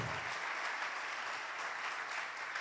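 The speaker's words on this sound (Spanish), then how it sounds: "Dale un aplauso fuerte al Señor." A church congregation claps for the Lord, a sustained wash of many hands applauding together, moderately distant and fairly quiet, unbroken throughout.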